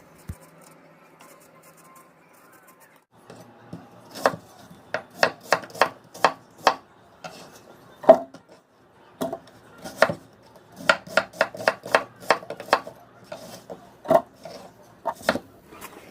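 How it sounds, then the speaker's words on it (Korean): A knife chops onion and red chili peppers on a cutting board in quick bursts of sharp, crisp thuds, pausing between runs. "양파도 1개 썰어서 넣어주고 홍고추도 10개를 숭덩숭덩 썰어서 넣어줍니다."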